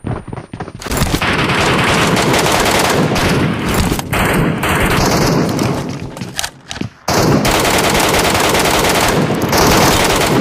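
Dense automatic gunfire in PUBG Mobile's Metro Royale mode rattles loudly and almost without pause, in rapid bursts of shots with heavy booms. There is one brief lull, and then the firing resumes.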